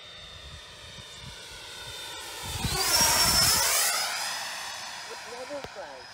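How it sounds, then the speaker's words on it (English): A Freewing 90mm EDF model jet, F-22 or F-18, flies past at an RC field, its whine rising and sweeping down in pitch as it passes close and loud, with people talking nearby. "This is a Freewing 90mm."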